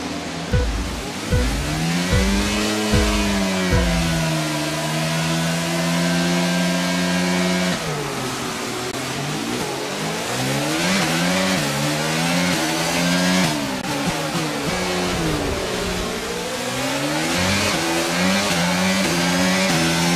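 F1 cars in F1 22 revving at the race start, several engines rising and falling together in a loud sustained roar, with repeated upshifts and pitch sweeps and no speech.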